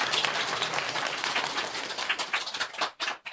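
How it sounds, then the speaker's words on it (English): Audience at a Buddhist talk clapping, a short close burst of scattered, lively applause that thins out and stops after a few seconds. "You can clap again if you like"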